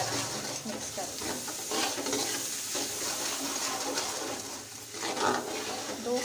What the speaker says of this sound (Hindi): 2 से 3 मिनट तक हम इसकी अच्छी तरह भुनाई करेंगे